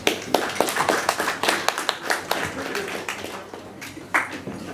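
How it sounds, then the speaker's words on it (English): Light, scattered clapping from a small audience at an evening drinks and pitch night, individual hand claps audible in a loose rhythm that thins toward the end, with a voice murmuring underneath. "round of applause for Hugh"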